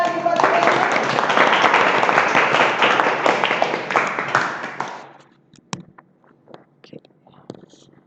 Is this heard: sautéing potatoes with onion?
no